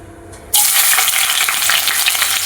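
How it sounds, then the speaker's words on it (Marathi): Sliced onions hit hot oil in a pan for Kolhapuri-style mutton fry, bursting into a loud, steady sizzle after a half-second of near quiet. "पहिल्यांदा आपण मटन फ्राय करूया. कांदा टाकून घेऊया आपण."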